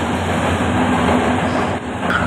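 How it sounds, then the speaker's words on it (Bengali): At Sylhet railway junction, a train engine approaches with a close, loud, steady rumble and wheel noise. "এখানে আপনারা দেখতে পাচ্ছেন একটি ট্রেনের ইঞ্জিনের বগি আসতেছে"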